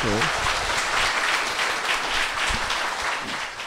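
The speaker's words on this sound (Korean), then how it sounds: "박수 한번 부탁드리겠습니다." An audience at a lecture salon claps steadily for a guest author, continuous dense applause throughout, with a brief voice at the start.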